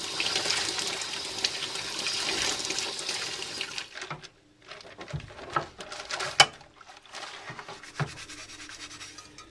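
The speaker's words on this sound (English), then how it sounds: "I'm going to wash them off with soap and water, scrub off anything that's left" Running water and scrubbing, then rubbing and clinking of cast iron cookware being washed with soap at close range, with a couple of sharp knocks near the end.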